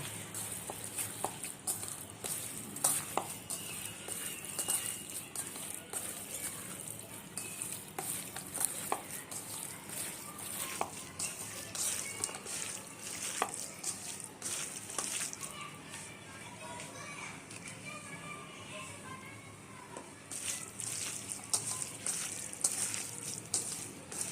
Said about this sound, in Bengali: এবারে এটাকে আমি সব মিক্স করে ভালো করে মাখাই নেব।